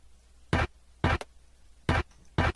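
A drum beat built from a pitched Call of Duty ray gun sound, with four short, loud, broadband snare-like hits spaced roughly half a second apart, each standing alone with no talk.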